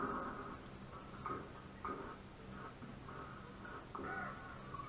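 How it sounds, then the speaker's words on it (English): Repeated crow caws in the Donkey Kong Country video game, a series of harsh, evenly spaced calls at moderate level over a steady game background, with no talking. "Just kill a bird like I care."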